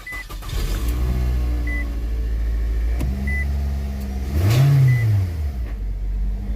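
A 2013 Nissan Altima 2.5 S with about 225,000 miles and a new battery and alternator cranks and catches. It idles with a low steady rumble, revving briefly partway through before settling back down.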